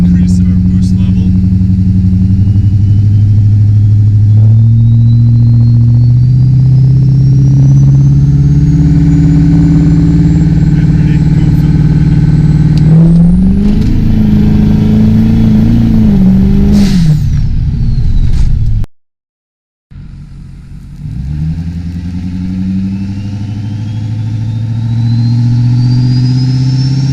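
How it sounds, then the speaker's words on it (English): A Duramax diesel pickup truck held on the brake under launch control, its engine revving and building boost, loud and sustained, then a brief cutoff before the revving resumes; people talk over it. "Turn that button on, foot hard on the brake, foot to the floor, and this will increase our boost level."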